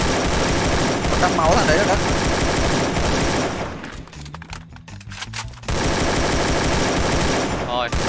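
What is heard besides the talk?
gunfire in the video game Free Fire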